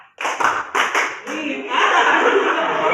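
A group of students claps in a focus game in an Indonesian classroom: a cluster of sharp, loud claps in a short rhythmic burst, then a denser round of clapping mixed with chuckles and chatter.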